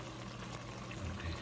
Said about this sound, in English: 1/2 cup of water to the fish to thicken it up